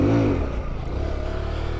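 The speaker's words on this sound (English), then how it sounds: "We're gonna snatch some throttle." A Kawasaki Z125 Pro motorcycle has its throttle snapped open for a wheelie: a loud, close engine rev that swells sharply at the start, then settles into a steady, rough drone.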